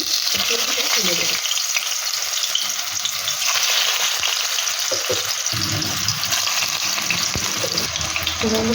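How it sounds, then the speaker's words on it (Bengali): Young jackfruit chunks fry in hot mustard oil with a loud, steady sizzle close up, broken by scraping stirs from a spatula. "এখানে আমি এঁচোড়গুলিকে ভালো করে লাল লাল করে ভেজে নেব।"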